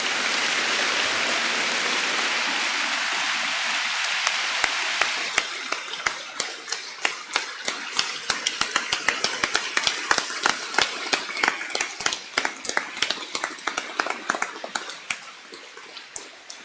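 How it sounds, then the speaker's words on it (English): An audience at an evening general assembly applauds guest speakers, a dense wash of clapping that thins into scattered, separate claps over about ten seconds. "let's give the guys that came here tonight to share their stories one more round of applause"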